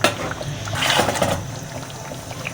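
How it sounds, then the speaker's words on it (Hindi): Water pours from a jug into curry gravy for nargisi kofta in a home kitchen, a steady splashing liquid rush that swells briefly in the middle and then settles into a softer trickle. "अब मैं इसमें थोड़ा पानी शामिल कर रही हूँ ग्रेवी के लिए।"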